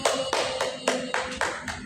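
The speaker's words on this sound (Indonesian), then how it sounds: "Tepuk tangan untuk Ani dan Doni." Children in a classroom clap for classmates in a loose, rhythmic pattern of sharp hand strikes, about seven distinct beats, close and fairly loud with no talking.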